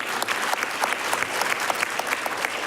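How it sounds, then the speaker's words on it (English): An audience at a superintendent's awards ceremony applauds, a steady patter of many hands clapping together with no voices over it. "Let's give her a round of applause."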